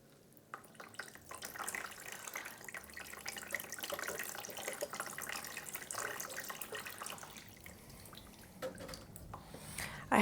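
A tap runs steadily while plant pots are rinsed in a sink, a continuous splashing hiss with drips and spatter lasting about ten seconds, fairly quiet and without talk.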